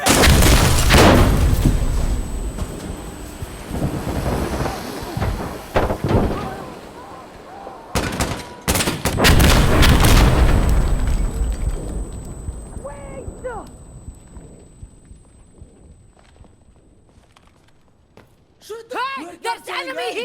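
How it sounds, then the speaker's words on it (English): In the Insurgency Sandstorm video game, bombs explode in loud, deep booms as gunfire crackles, with heavy bursts early on and again midway before the noise fades. Shouting voices are heard over the battle. "they're dropping bomb!"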